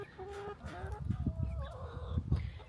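Chickens, among them a Whiting True Blue hen, cluck and chatter in short bursts, fairly close and moderately loud, with a few higher calls over low rustling on a farm in spring.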